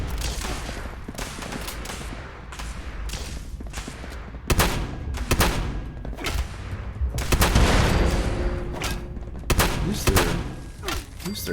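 Enemy pistols fire in a Fallout 76 firefight, with rapid irregular volleys of sharp shots that come in clustered bursts. The shots are loud and near, and some are heavier thuds.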